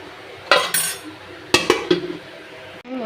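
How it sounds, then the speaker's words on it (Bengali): A lid clinks onto a cooking pan of precooked potatoes: a sharp metallic knock, then a few lighter rattling clinks as it settles, close and distinct with no talking. "খালি হালকা একটু চাপা দিয়ে দেব"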